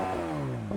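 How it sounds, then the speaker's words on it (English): A car engine revs at a drag race meet. The pitch sweeps steadily up and then falls back in a single short, sustained, close and loud rev. "Let's have a listen to your car, Tommy."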